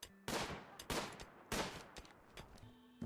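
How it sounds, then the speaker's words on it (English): Gunfire from the video game Rimworld during a night fight: three loud broadband bursts of shots in quick succession, each trailing off, followed by quieter scattered pops and a faint tone near the end. "Day 3's night ended with gunfire"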